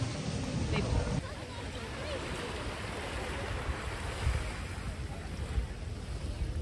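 Surf on an Aruba beach washes in a continuous broadband rush, with heavy wind buffeting the microphone and no distinct individual wave breaks.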